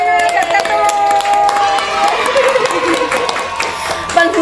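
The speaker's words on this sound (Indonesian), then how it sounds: "kasih tepuk tangan dulu Dr." An audience at a hospital podcast event applauds and cheers, a dense patter of clapping mixed with crowd noise, while a person talks over it.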